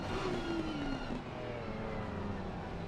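A BMW GT3 race car accelerates in a racing game, its engine revving steadily upward with a droning whine that stays loud and close, with no voices.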